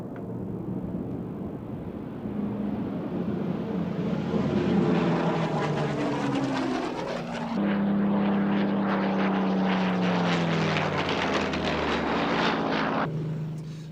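A WWII propeller fighter, a rugged tank buster, flies past at a 1990s British airshow, its engine drone rising and then sweeping down in pitch as it passes nearby, loud and sustained for the whole stretch.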